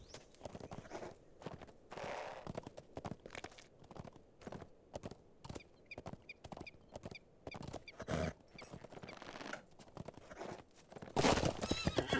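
Horse hooves clip-clop at a steady ride in The Lord of the Rings Online, with occasional whinnies and neighs, loud and close, ending in a louder burst of movement; no talking.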